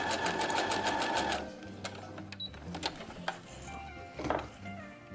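A sewing machine stitches a Star Wars jumpsuit at a short 0.4 stitch length and width of 2, running in a dense rapid burst at first, then slowing into scattered clicks and short runs of stitching, close by.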